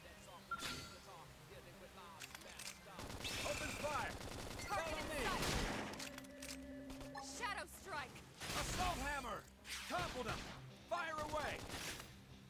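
Gunfire in Xenoblade Chronicles X combat, bursts of rapid weapon fire and impacts layered over game music and sound effects, loud and continuous, with voices calling out amid the action.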